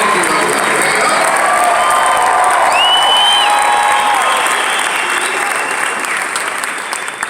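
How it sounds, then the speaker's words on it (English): Loud, sustained audience applause fills the space, with scattered cheers and a whistle, slowly tapering toward the end. "Let's give them this round of applause."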